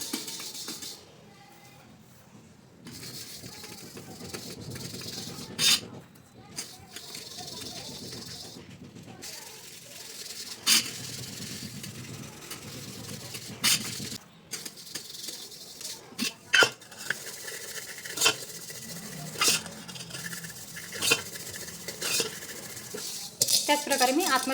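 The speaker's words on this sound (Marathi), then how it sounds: "याला सुद्धा मी पितांबरी लावून घेतली आहे आणि आता हे पण घासून काढते" A steel pot scrubbed with Pitambari powder, with repeated scraping and rubbing strokes and frequent metallic clinks and rattles close by. A voice is heard at times.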